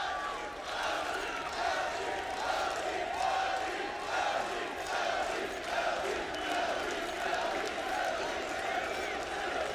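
Esports arena crowd at a Counter-Strike Major grand final in Columbus, a distant, diffuse roar of cheering and chanting that holds steady throughout with scattered claps.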